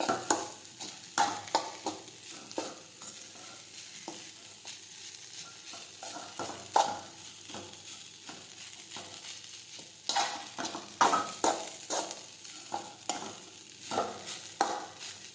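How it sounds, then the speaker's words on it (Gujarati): Boiled rice is sautéed in a pan over a low gas flame, with repeated scraping stirs and a soft, steady sizzle close up and no talking. "આ રીતે આપણે ધીમો ગેસ રાખી અને સાતળતા જઈશું।"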